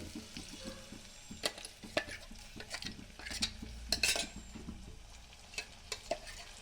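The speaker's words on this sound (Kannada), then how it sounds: "ನೋಡಿ ರುಬ್ಕೊಂಡಿರುವಂಥ ಮಸಾಲೆ ಹಾಕ್ಕೊತಾ ಇದ್ದೀನಿ" Ground masala being added to a pan and stirred for a horse gram sambar, with soft sizzling and scattered scraping and clinking of a spoon against metal, steady and close, no voices.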